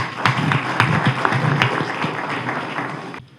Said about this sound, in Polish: I teraz oklaski.